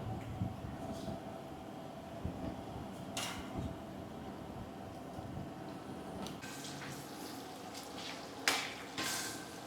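Corn kernels dropped into hot oil fry with a faint, steady bubbling sizzle, low in level with a few soft splashes and clinks over the continuous hiss.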